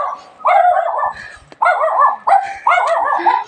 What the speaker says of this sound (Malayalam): പോകുന്ന വഴിക്ക് പട്ടിയുണ്ട് ഗെയ്സ്